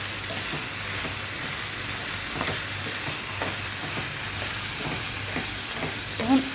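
Chicken liver fries in a pan, giving a soft, steady sizzle with light popping and occasional stirring, close and even throughout.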